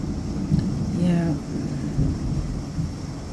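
Steady rain hiss with a low thunder rumble and a few soft thumps during an East Texas thunderstorm; a faint voice murmurs briefly beneath the storm.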